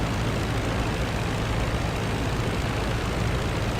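WWI German aircraft engines in Rise of Flight drone in a dense, continuous, loud roar with no breaks or voices, several planes blending into one steady engine hum.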